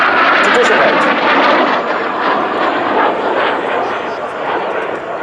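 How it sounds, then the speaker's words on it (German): A Flying Bulls Alpha Jet flies past at the ILA Berlin airshow with a broad, loud jet roar that slowly fades, under a commentator's voice. "Ja, das war der letzte Teilnehmer aus der Gruppe, aus der Formation der Flying Bulls von Red Bull, der Alpha Jet."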